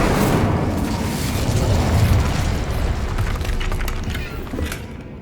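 Incendio fire spell cast in the Hogwarts Legacy video game, a loud, full roaring blast that stays heavy and booming for several seconds before easing slightly toward the end.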